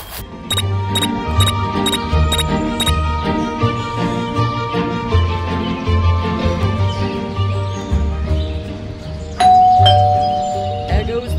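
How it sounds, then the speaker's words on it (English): A doorbell chimes repeatedly in the Scary Teacher 3D video game, ringing tones recurring over a steady musical game backdrop, with high clinking notes near the start and a louder tone toward the end. "There goes that stupid bell again."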